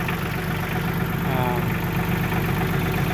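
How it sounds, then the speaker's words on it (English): A tractor engine runs steadily in snowy winter weather in Northeast Washington, a continuous low rumbling drone with a faint knocking pulse, fairly loud and unbroken throughout. "My neighbor's over there across the way with his tractor."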